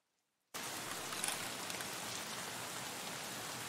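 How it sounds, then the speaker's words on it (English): Steady rain falls on the Lighthouse map in the video game Escape from Tarkov, starting abruptly after a brief silence and then hissing on as an even, dense wash with no voices. "Bro, it's like always raining on this map."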